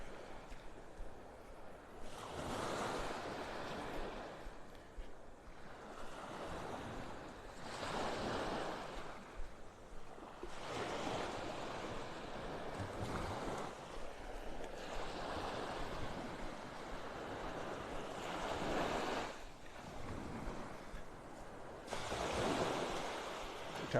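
Ocean surf rolls in at Pelican Bay Beach in North Naples, Florida, as the tide rises. Waves swell and break in slow recurring surges over a constant wash, with a light rumble of wind and no talking.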